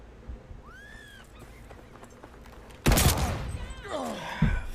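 Gunfire from shotguns in a video game: a loud burst of overlapping blasts and sharp reports erupts partway through, with a further crack near the end, over a quieter game soundscape with brief tonal chirps.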